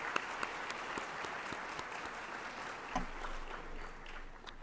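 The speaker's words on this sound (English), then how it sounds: "So you should give yourselves a round of applause." An audience at an awards luncheon claps steadily and fairly loudly, a dense wash of applause that holds evenly throughout and tapers slightly near the end.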